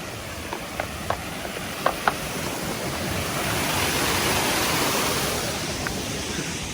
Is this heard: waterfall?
yes